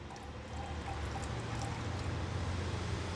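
Distilled water poured into an antifreeze coolant mix, a steady close-up liquid pour running continuously for about three seconds with a low gurgling stream and no talk.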